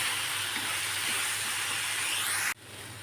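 Masala for kotthu paratha sautés in a hot pan with a loud, steady hiss that cuts off abruptly near the end and drops to a quieter sizzle.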